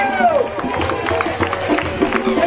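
A crowd at an outdoor anti-pesticide rally in Eugene, Oregon applauds and cheers for a reggae band, a steady loud wash of clapping with shouts and mixed voices throughout.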